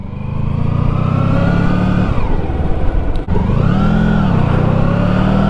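A Honda Pan European ST1100 motorcycle rides along a road, its engine droning loud and close with rising and falling revs as it shifts through gears, with a brief dip partway through.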